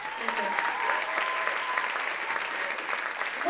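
Audience applause at a live rock opera performance, a steady dense wash of clapping from a large crowd filling the room without pause.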